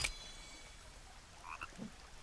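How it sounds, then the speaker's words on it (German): Frogs croak in a forest in The Forest survival game, a few short, soft burbling calls near the end over quiet ambient background, no voices. "die Frösche sind gerade laut gewesen"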